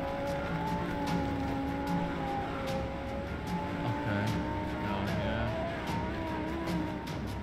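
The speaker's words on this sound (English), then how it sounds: "It's a car, what do you expect?" A car driving in Roblox Greenville, its engine holding a steady, loud drone with shifting pitch and a broadband road rush, carrying on without a break and without voices.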